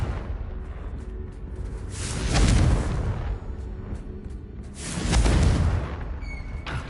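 Confringo spell blasts in the Hogwarts Legacy video game: two heavy, booming explosions a few seconds apart, each swelling into a loud rumbling burst over a constant low roar, with no talking.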